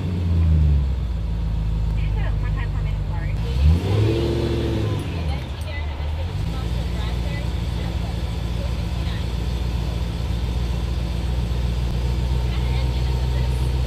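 A Ford GT500 with a 5.4 V8 and a big Whipple supercharger idles with a deep rumble, then revs once in a rising and falling sweep before settling back, with people talking nearby.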